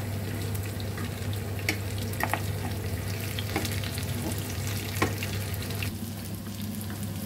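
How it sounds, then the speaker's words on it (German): Zucchini balls sizzle steadily in a frying pan, an even, close crackle with a few sharper pops and occasional stirring scrapes, no voices. "Jetzt haben wir sie mal ein bisschen gebraten."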